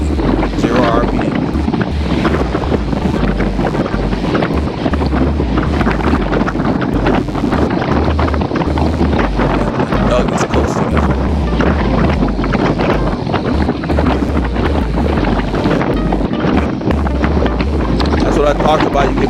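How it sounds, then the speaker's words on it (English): Wind buffeting a cyclist coasting downhill on a group road ride, a loud continuous rushing roar with heavy low-end rumble throughout, with a faint voice partly buried beneath it. "I'm coming out into the wind"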